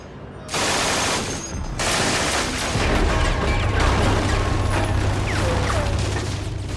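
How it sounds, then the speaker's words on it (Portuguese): An MG-42 machine gun fires in long, extremely rapid continuous bursts, so fast the shots blur into a loud tearing roar, with mechanical clatter. "Ela ficou conhecida como o zíper de Hitler e faz um som parecido com o de tecido sendo rasgado."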